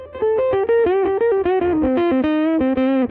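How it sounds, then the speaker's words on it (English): Gibson Les Paul Jr electric guitar on its neck pickup with the tone control rolled fully off, a dark, muffled run of sustained single notes stepping downward, played alone and close. "when you're in the neck position, it's basically the pickup wired to the tone control rolled all the way off. So it's a very muffled and dark sound"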